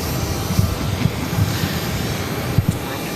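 Steady low jet rumble from an airplane taking off on runway 22 right at Boston Logan, heard at a distance with a few soft thumps over a constant roar.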